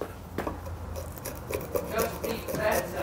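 Close scraping and rasping of a chisel paring into wood for picnic bench joinery, a series of short irregular cuts at close range, with occasional faint speech underneath.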